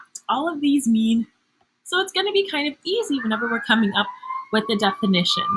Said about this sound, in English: you can hear a siren in the background